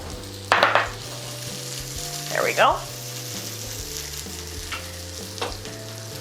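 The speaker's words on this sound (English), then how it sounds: "Do you hear that sizzle?" A steady sizzle of food frying in a pan runs throughout, with a couple of scraping stirs and a person speaking briefly.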